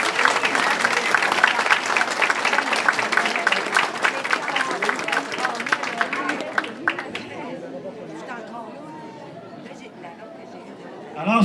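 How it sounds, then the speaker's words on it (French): Audience at a luncheon applauds, with sustained rapid clapping and chatter for about seven seconds before it fades into quieter room murmur. "Avec une bonne main d'applaudissement tout le monde"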